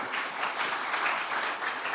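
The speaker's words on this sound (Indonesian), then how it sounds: "Kita berikan tepuk tangan yang meriah buat beliau." Audience at a PDIP political event in Central Java giving a round of applause: many hands clapping in a dense, continuous patter, fairly soft and distant-sounding, with no voices on top.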